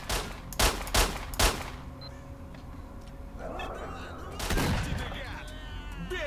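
Three sharp, loud gunshots in quick succession from a two-round shotgun in S.T.A.L.K.E.R.: Shadow of Chernobyl, followed by quieter ambience and a later burst of noise.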